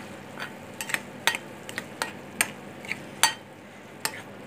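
Mawa and ghee cooked down from cream being stirred in a pan, a spoon scraping and clicking against the metal at an irregular pace over a soft sizzle, close and fairly quiet.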